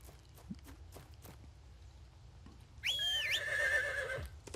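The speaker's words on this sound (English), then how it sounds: "Whistle for my horse comes a-running." Horse sounds from the video game Devas of Creation, with faint, scattered hoofbeats followed by a loud, clear whinny that rises and wavers near the end.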